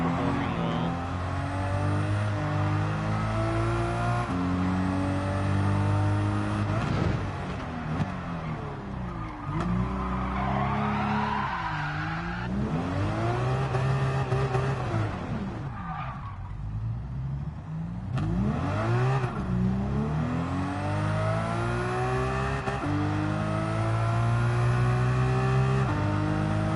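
Race car engine in a racing video game with rear-wheel-drive power, revving loudly and continuously with rising and falling pitch sweeps through gear changes, brief tire skids and squeals, close and dominant throughout.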